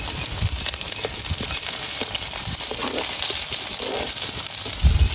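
Mustard seeds spluttering in hot oil in a home kitchen, a dense steady crackling hiss with scattered pops, loud and close.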